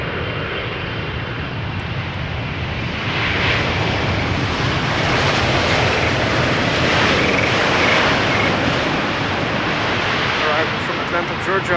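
Boeing 777-300 airliner passing at the Polderbaan runway at Schiphol, a loud steady broadband engine roar that swells slightly and holds throughout.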